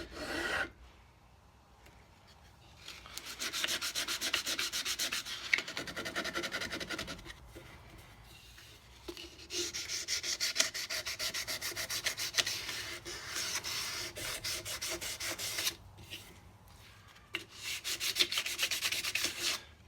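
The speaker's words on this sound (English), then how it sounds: "Keep on sanding." Rifle stock being sanded with sandpaper during a thumbhole stock upgrade for a Savage Model 11, a steady rasping rub in long sustained strokes with brief pauses between bursts, close and fairly quiet with no talk.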